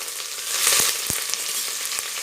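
Crushed onion, garlic and curry leaves frying in oil for a spicy Tamil rasam, giving a steady close sizzle with a brief louder crackle partway through and no talking.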